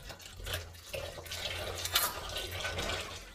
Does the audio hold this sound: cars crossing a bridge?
no